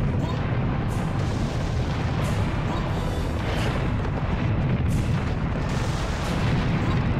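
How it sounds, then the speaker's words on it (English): Dense, rumbling booms and blasts roll on continuously, cannon fire mixed with explosions in a loud, chaotic Serious Sam: The Second Encounter battle. "I'm getting my cannon out"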